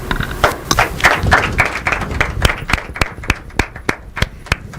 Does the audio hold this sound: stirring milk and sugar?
no